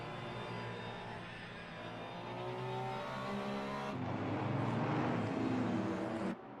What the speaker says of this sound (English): all the engines firing off behind as everyone starts to make their way